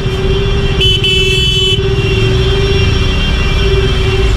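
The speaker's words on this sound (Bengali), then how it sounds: "বর্ধমানে এরকমভাবে বিভৎস জ্যাম। তা বাইক বলে এদিক ওদিক করে কাটিয়ে বেরিয়ে যাচ্ছি।" A motorcycle edges through a dense road jam near Burdwan, where roadwork is under way; steady engine drone and traffic rumble persist throughout, with a brief high horn blare near the first second.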